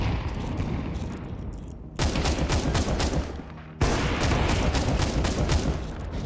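Rapid gunfire from the online shooter game Counter Strike Online 2, loud dense bursts of shots that stop briefly and then resume, with no speech over them.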